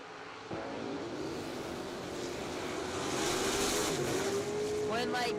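A dragster-like race car at an ACE drag racing event roars loudly and steadily from start to finish, building slightly in intensity, with a rising engine tone near the end; an announcer talks over it.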